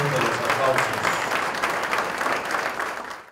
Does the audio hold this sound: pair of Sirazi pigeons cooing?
no